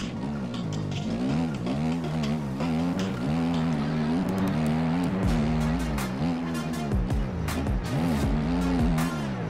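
A 450 dirt bike engine in the MX Bikes racing game revs hard and continuously, its pitch rising and falling through throttle blips and gear changes, loud and close with no talking.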